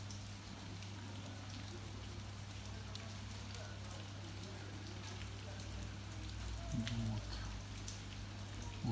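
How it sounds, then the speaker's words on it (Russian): Heavy wet snow mixed with rain falls steadily on the southern coast of Crimea near Yalta, a constant soft patter of drops on surfaces with a steady low hum beneath and brief faint voice or noise near the end. "Снег, как дождь идет."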